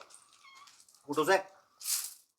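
A cat gives one loud, close meow after some soft talk, followed by a short breathy hiss of noise.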